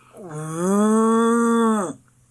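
A cow gives one long, loud, close moo lasting over a second, rising then holding steady before cutting off, alone with no talk.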